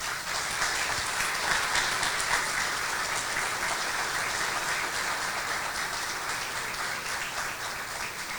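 An audience at a historical book launch evening in São Pedro do Ivaí applauds an author's tribute, a sustained dense wash of clapping throughout that eases slightly toward the end.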